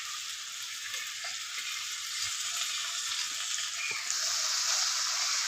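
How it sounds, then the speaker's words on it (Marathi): Okra tossed into sautéed onion and capsicum in a pan gives a soft, continuous sizzle with faint stirring taps, swelling slightly louder near the end. "आपली शिमला मिरची आणि कांदा मस्त परतून झालाय। आता आपण भेंडी टाकूया।"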